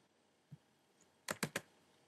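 A few sharp mouse clicks on a computer while copying an item, one soft tap followed by a quick cluster of three louder clicks, close and otherwise quiet.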